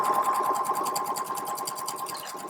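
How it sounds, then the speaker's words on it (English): A sewing machine runs steadily, stitching straight across the seams of a drawstring bag, its fast, even needle rhythm continuous and close with no talking. "here, what I do is I sew straight across"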